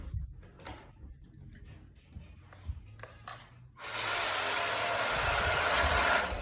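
A remote-control truck is set down on the ground by a door and driven back across it, its motor breaking into a loud, steady high-pitched whine that fills the second half after quieter handling sounds.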